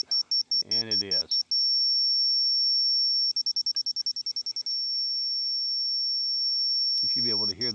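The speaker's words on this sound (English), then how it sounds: "You should be able to hear that beep." A long steady high-pitched electronic beep sounds through most of the clip beside a sawmill shed post job, with a pulsing stretch in the middle and someone talking at the start and end.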